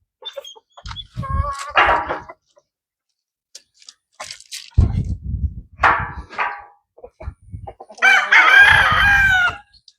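Six-month-old goldline gamefowl roosters crow loudly and cluck in bursts, several calls overlapping with harsh, stretched crows near the end, with brief quiet gaps between.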